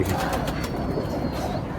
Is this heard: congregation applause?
no